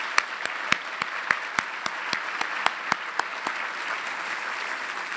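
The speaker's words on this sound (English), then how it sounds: "let's have a big round of applause for the table captains and the chairs" Applause from a breakfast event audience honoring table captains and chairs, a steady patter of many hands with a few sharp, louder individual claps standing out rhythmically near the front throughout.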